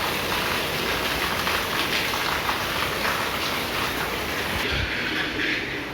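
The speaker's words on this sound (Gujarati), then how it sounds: "બહુ જ ફાસ્ટ વરસાદ ચાલુ" Heavy rain pours down over farm fields in a Gujarati village, a dense, loud, unbroken hiss and patter with no pauses.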